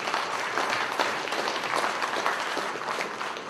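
A large crowd at an awards event applauding and cheering, a dense steady roar of clapping that holds at an even level throughout.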